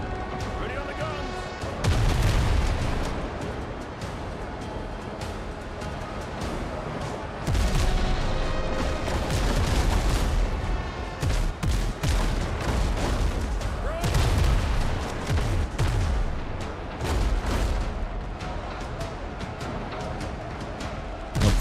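Heavy ship guns firing during a pirate naval battle in Windrose, with repeated loud booming blasts in irregular clusters over dense, continuous battle noise.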